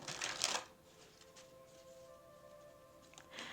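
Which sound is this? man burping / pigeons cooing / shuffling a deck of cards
shuffling a deck of cards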